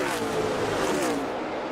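Martin Truex Jr.'s Furniture Row Racing NASCAR stock car roaring down the backstretch on the final lap, a loud sustained engine drone with rising pitch.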